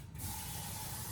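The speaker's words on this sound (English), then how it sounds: "I like to add a little bit of water." Water pours into a pot of goulash: a brief, close, hissing rush of liquid, steady after a short start, with no talk.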